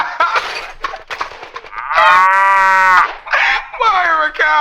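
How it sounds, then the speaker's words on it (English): A loud, drawn-out cow moo comes through a voice chat microphone, rising over and cutting across gamers' chatter, with talk before and after the call. "Why am I hearing a cow?"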